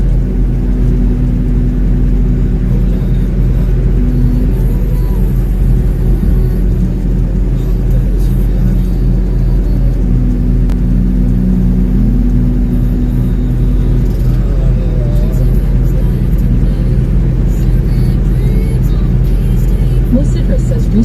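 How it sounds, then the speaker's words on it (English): Steady, loud low rumble of a truck driving fast on a US road, heard from inside the cab as a continuous engine and road drone with light whirring and no clear gear changes. "The truck is going really fast."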